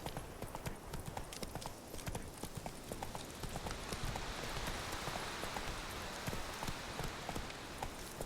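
Horse hooves clip-clop steadily in a gallop through The Witcher 3, a dense and continuous rhythm of hoofbeats set against a faint rainy ambience.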